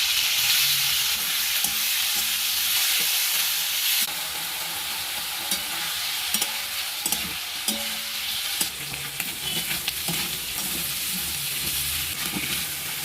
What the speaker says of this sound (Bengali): এখন আমি চিংড়িগুলোকে ভেজে নেব